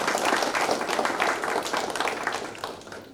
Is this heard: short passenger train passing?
no